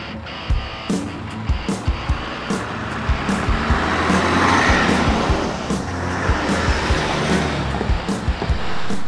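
A 2020 GMC Sierra 1500 Denali crew cab with the 3.0-liter turbo diesel drives along, giving a steady engine and road rumble throughout, with tire and wind noise and scattered short thumps over the drone.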